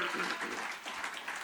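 An audience applauds a musician on a live Italian music show, a dense, close wash of clapping that dips briefly midway and swells again, with no clear talk over it.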